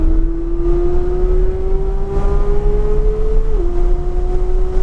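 Porsche GT3 engine pulling hard at full throttle on the Homestead track, a loud steady drone climbing in pitch, with a brief dip as it shifts gear near the end.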